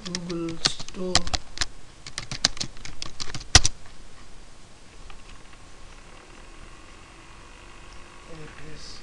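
Rapid bursts of keystrokes on a computer keyboard during the first few seconds, clicking close and fairly loud, then quieter room noise with a faint hum for the rest.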